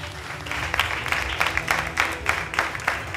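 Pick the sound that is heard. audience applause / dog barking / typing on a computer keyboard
audience applause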